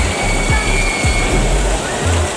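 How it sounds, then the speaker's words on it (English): Water splashing and rushing steadily at the Trevi Fountain in Rome, a continuous broad wash of sound up close with a faint murmur of crowd voices beneath it. "we have reached Trevi Fountain"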